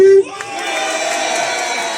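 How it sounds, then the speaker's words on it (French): A protest crowd at a Paris street demonstration applauds and cheers after a brief amplified voice, with a broad, continuous roar of clapping and shouting that stays loud and even to the end. "Applaudissez-vous"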